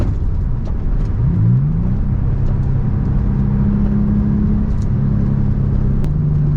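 A Porsche Turbo S is overtaken on the road, heard as a loud, steady engine drone and road rumble, with a rising engine tone shifting upward as speed builds, close and continuous.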